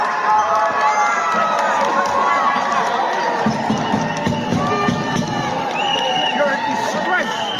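A crowd of protesters cheers and shouts loudly and continuously, with voices rising and overlapping and individual shouts and speech mixed into the roar.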